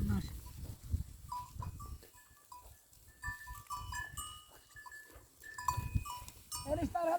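Goats bleat intermittently among a herd, with a bell clinking and a person talking nearby outdoors.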